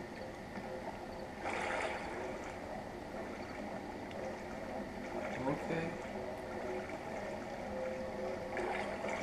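Footsteps wading through water in the horror game Outlast 2, with splashy sloshing surges standing out from a steady ambient background at intervals.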